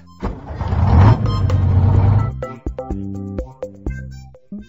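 Bus engine rumbling loud and close for about two seconds, followed by a bouncy run of short musical notes.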